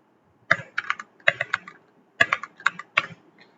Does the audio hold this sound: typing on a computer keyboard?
yes